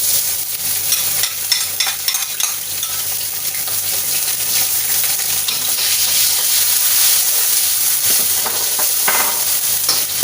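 Spice ingredients fry in a wok with loud, continuous sizzling and crackling, occasional stirring scrapes breaking through the steady hiss, close up and without talking.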